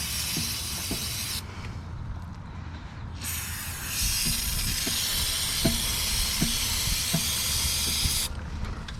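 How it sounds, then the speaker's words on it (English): Degreaser sprays onto a motorcycle chain in bursts of loud, close hissing. Two long sprays are separated by a short pause, with light clicks and handling noises underneath. "Spray it again with our degreaser."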